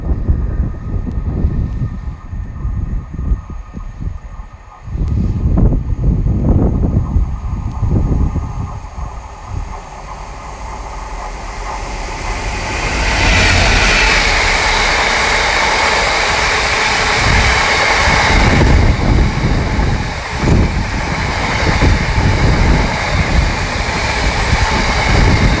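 GBRF Class 66 diesel locomotive 66755 hauling an empty ballast train past a station platform, its engine rumbling as it nears and then a long steady roar of passing wagons fills the second half, loud and close with no talk.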